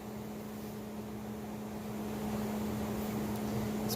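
An ARB on-board air compressor in a DIY 5-gallon air system runs with a steady, faint mechanical hum and drone, unbroken for several seconds with no voices.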